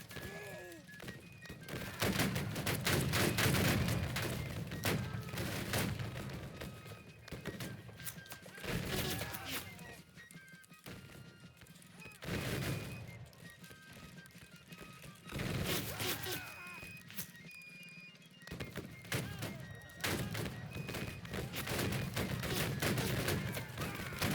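Musket gunfire in the Civil War video game Battle Cry of Freedom, with ragged volleys and scattered shots crackling in waves amid shouted commands and battle noise.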